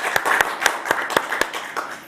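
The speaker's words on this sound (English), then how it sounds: "Please give a big round of applause for all of our evening's sponsors" One person clapping at a virtual gala for the evening's sponsors, about eight evenly spaced sharp claps, close and moderately loud, slowing slightly toward the end.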